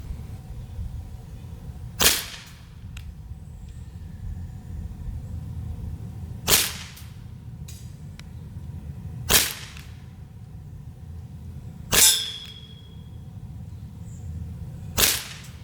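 A Glock 19 Gen 5 CO2 blowback BB pistol fires five sharp, snappy shots spaced a few seconds apart, each a crisp pop with a quick mechanical clack, over a quiet outdoor background.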